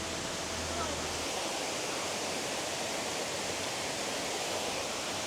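A waterfall beside a hanging bridge in Saranda roars as a steady, dense broadband rush, constant and fairly near throughout, with a low hum at the start.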